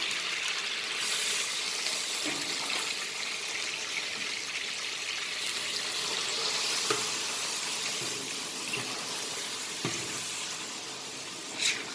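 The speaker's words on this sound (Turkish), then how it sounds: "Bu çok et olduğu için burada gördüğünüz gibi kavruluyor." A large batch of meat for about 300 people roasting in a big pan, giving a steady, loud sizzle and bubbling of its own juices throughout, with a few faint scrapes and knocks.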